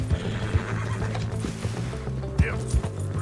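A horse neighs and whinnies in Red Dead Redemption 2, with clip-clopping hooves and a bright whinny near the middle, all at moderate level and without talk.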